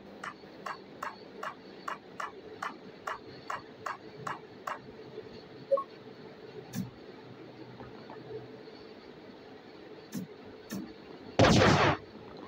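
Explosions tear apart Earth in the video game Solar Smash: a steady run of sharp, rhythmic ticking clicks, then a few isolated thuds and a loud, dense blast near the end.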